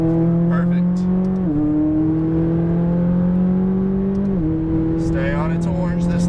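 A Lamborghini Huracan Performante's engine holds a loud, steady drone on a Las Vegas race track, stepping up in pitch twice as it is revved through the gears, with a voice talking over it.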